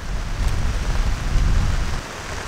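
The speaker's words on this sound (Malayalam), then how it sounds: "മഴ കൂടിയൊക്കെ ഒരു രക്ഷയില്ല" Heavy rain pours steadily in a dense, even hiss close by, with a low rumbling undertone and no voices.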